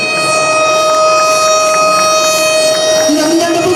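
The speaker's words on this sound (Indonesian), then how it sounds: "ditandai dengan penekanan tombol sirene dan pelepasan balon" A loud ceremonial siren sounds a steady, sustained wail to open a regional student sports week in NTT, with crowd noise and a voice beneath it and a rising tone entering near the end.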